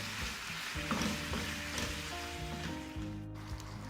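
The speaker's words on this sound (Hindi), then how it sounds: "अब इसमें चिली सॉस डालेंगे और सोया सॉस डालेंगे, और अब इसको फिर हम अच्छी तरह से मिक्स कर लेंगे।" Chicken sizzles in a pan as chili sauce and soy sauce are stirred in, a short burst of close frying hiss mixed with spoon scrapes and bubbling, no voices.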